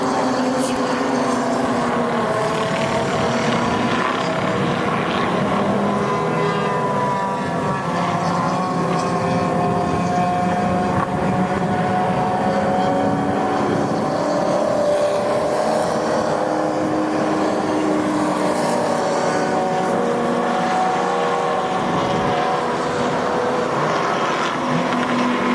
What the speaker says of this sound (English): we got some fast cars kind of running through traffic